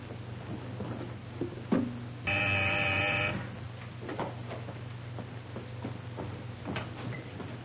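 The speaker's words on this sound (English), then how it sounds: "I'll phone the castle." A telephone rings in an old radio drama, one steady electric bell burst of about a second over a constant background hum, surrounded by faint clicks and handling noises.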